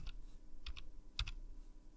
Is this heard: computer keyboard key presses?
yes